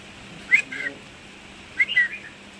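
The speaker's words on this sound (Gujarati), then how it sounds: "એક ચકલી બુલબુલ ચકલી બહુ મસ્ત બોલે છે" Two short, clear whistled bird notes about a second apart, fairly faint against a quiet background, like a bulbul singing.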